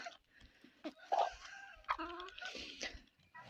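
Chickens clucking in short bursts, close by, with a few sharper squawks among the softer clucks.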